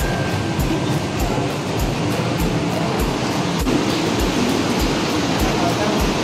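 A moving passenger train rumbles and rattles in a steady rhythm, with repeated wheel clicks over rail joints and a continuous loud roar from inside the carriage.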